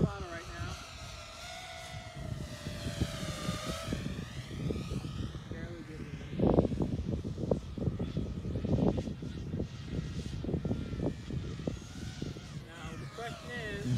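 An FPV drone with 2750KV motors on a 6S battery whines with a high, shifting motor pitch that rises and swells under throttle blips, with a voice talking over it.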